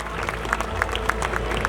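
Applause rises from an audience welcoming staff at a school annual day event, a steady dense patter of many clapping hands heard throughout this very short moment.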